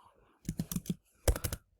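A computer keyboard clicks as a search query is typed, in two short bursts of quick keystrokes separated by a brief pause, fairly close and without talk.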